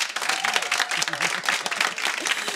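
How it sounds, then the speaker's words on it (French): A crowd claps and applauds steadily for a few seconds, a dense patter of many hands close by. "applaudir les altos"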